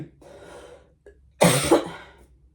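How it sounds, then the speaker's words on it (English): A soft breath or throat noise, then one sharp, loud cough close by, its rough burst trailing off into quiet breathing. "Still some remnants of the cough, but definitely not as bad as it was as I continue coughing"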